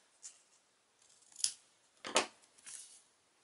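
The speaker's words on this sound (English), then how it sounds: "And we'll trim off the excess." A few crisp, close scissor snips cut the excess paper off a handmade Valentine gift card, spaced unevenly with short pauses between them.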